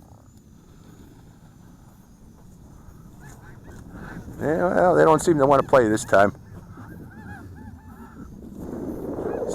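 A flock of geese honks loudly in a burst of repeated calls lasting a couple of seconds, heard outdoors amid wind and a faint drone hum, with someone talking before the calls.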